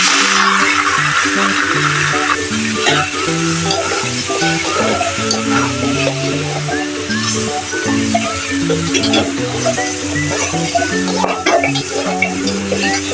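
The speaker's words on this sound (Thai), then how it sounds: "อันนี้ต้องผัดให้ที่โครงหมูเขา ตึงๆหน่อยค่ะ" Pork ribs stir-frying with garlic in a hot pan for soy-braised ribs with shiitake: a steady, close sizzle with scraping stirs throughout, under soft background music.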